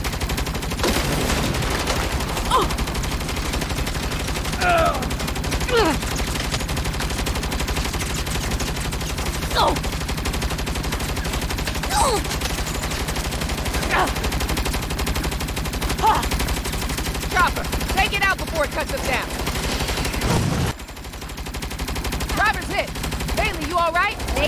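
Gunfire in Saints Row (2022) fills a long stretch of steady rapid shooting under game noise and occasional voices, with the barrage briefly cutting out near the end before resuming.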